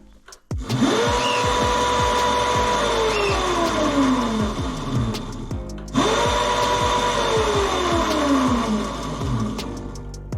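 A Crazy Cart electric motor runs at steady high speed, a loud close whine that winds up, holds, sags slightly, then rises again in a second burst.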